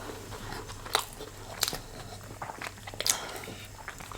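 Someone biting and chewing king prawn with rice, with soft close crunches and a few sharper bites over quiet room noise.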